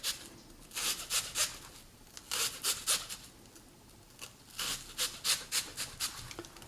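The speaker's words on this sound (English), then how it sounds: "score the top of the onion, cut into it" A knife scores the top of an onion in quick bursts of short rasping strokes, grouped in rapid runs with brief pauses, close and fairly quiet.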